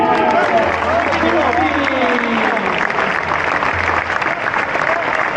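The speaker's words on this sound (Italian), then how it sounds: "Tifosi del Palermo, facciamo un grandissimo applauso a Davide Kundispa dei Monti!" Palermo football fans applaud in a stadium during the Anglo-Palermitan Trophy, a loud continuous wash of clapping and crowd noise with whistles and a low drone beneath, amplified voices faintly mixed in.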